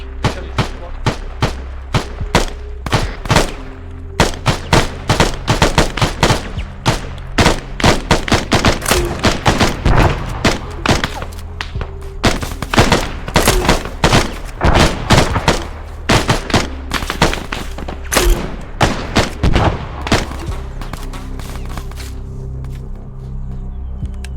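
Gunfire and an incoming artillery round during an amphibious assault raid in the Arma 3 video game: loud, rapid shots and dense bursts crackle almost without pause, with heavier thuds mixed in throughout.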